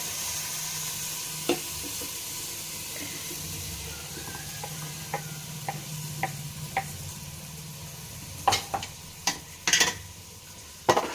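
A spoon stirs ground masala into goat and sheep leg soup simmering in a pot. Scattered clinks and scrapes against the pot become louder and more frequent toward the end, over a soft bubbling hiss.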